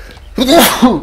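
One sharp, close human sneeze, a quick intake followed by a loud burst and a short trailing tail, heard alone.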